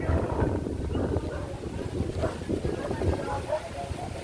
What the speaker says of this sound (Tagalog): Sarap ng hangin, lakas ng hangin ha.